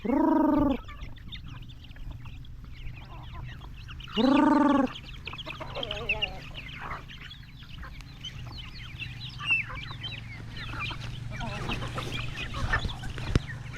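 Hungry native chickens cluck and crow in a farmyard, with two loud, harmonic rooster calls near the start. Softer scattered clucks and chatter follow over a steady low hum.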